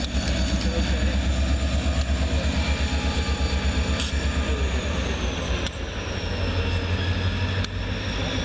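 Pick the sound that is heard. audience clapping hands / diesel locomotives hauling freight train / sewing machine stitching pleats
diesel locomotives hauling freight train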